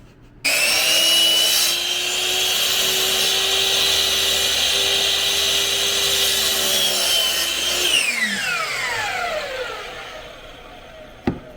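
A hand saw, likely a Japanese-style pull saw, cuts through wood for a blanket chest in a steady, continuous rasping stroke that runs for about eight seconds, then the tone sweeps down as the cut finishes and stops.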